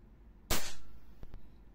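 A single sharp report from a WE IREX Hicapa airsoft pistol fired once in semi-auto, loud and close, followed by two quick faint clicks as the mechanism settles; no talking.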